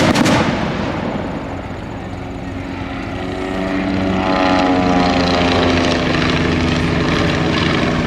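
Vintage WWI Spad and triplane aircraft fly over a field during a staged dogfight, their propeller engines droning steadily with a rising, sustained roar and bright harmonic whine.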